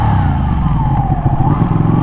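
Motorcycle engine running steadily and loud, close by, with a low rumbling throb and slight revving swells throughout, no talk over it.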